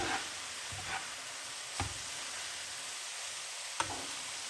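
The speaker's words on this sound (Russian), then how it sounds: "Снова перемешаю." Shredded cabbage fries and stews in a pan with a steady soft sizzle, while a spoon stirs and scrapes against the pan in a few sharp knocks spaced a second or two apart.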